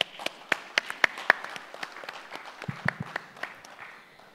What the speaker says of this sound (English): We must give both of them a big round of applause for that